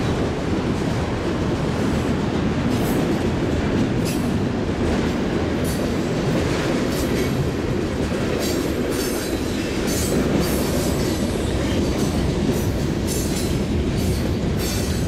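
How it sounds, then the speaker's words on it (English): A long Union Pacific mixed freight train rolls east across a swing bridge in Wisconsin, a loud continuous rumble with rhythmic wheel clatter and faint squeals, close and unbroken throughout. "a mixed freight we got here heading east"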